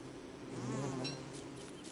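A bee in the game Don't Starve Together gives a short, faint, close buzz that swells and fades within about two seconds, with no speech.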